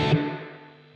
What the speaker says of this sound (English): Okay, so this is the dark reverb.